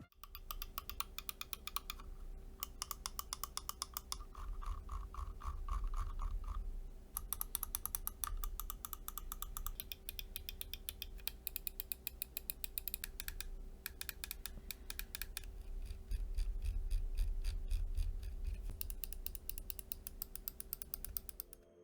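Crisp clicking from updated Zippy switches and a notched scroll wheel on a GWolves HSK Pro gaming mouse, rapid runs of close, dry clicks with short gaps, no talking.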